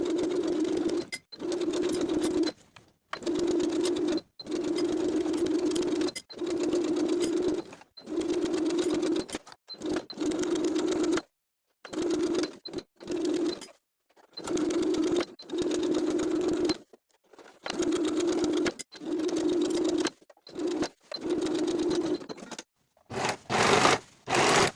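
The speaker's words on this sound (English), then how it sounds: "Now we're ready to sew the skirt to the bodice all the way around with a 1/2 inch seam allowance" A sewing machine stitches a dress skirt to its bodice around a half-inch seam, running in repeated steady bursts separated by short pauses, close and clear with no talking.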